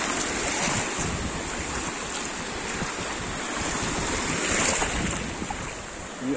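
Waves roll onto a sandy beach in a loud, continuous wash with wind hiss, swelling slightly midway and then easing, with no voices over it.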